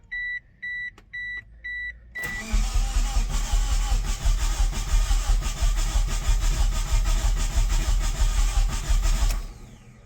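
Dashboard chimes beep a few times, then a Mitsubishi Eclipse GSX engine cranks and catches, settling into a loud rough idle that runs steadily before cutting off abruptly.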